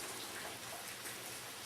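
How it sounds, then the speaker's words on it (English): Steady rain falls outside a workshop, a continuous dense hiss of drops on surfaces with no voices, even and unbroken throughout. "you can hear it's raining out there again"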